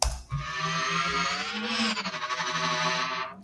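A bright, buzzy synthesized engine layer for a futuristic racing vehicle in Redout 2, with stacked harmonics of the real engine, holding steady with slight pitch wavering, loud and alone for a few seconds.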